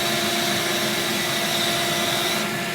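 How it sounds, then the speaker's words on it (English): A vacuum cleaner runs loud and close, sucking out the spout of a Ceado E37S coffee grinder during an upgrade, giving a steady unbroken roar with a faint whine over it for the whole stretch. "And we'll vacuum out the spout here."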